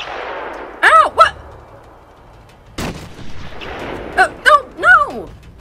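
Sniper shots ring out in Batman: Arkham Asylum, a few sharp reports with one sudden loud crack, mixed with bursts of game character voices.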